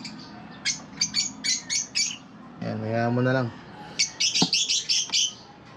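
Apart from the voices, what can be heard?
pet birds chirping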